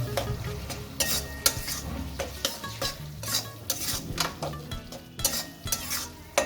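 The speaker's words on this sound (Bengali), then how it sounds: "এবার আমি যে কুচানো টমেটো আর কাঁচা লঙ্কা রেখেছিলাম সেগুলো অ্যাড করে দেবো এর সাথে।" Mutton masala with chopped tomato and green chilli being stir-fried, a spatula scraping the pan in quick rhythmic strokes over a soft close sizzle, with no talk.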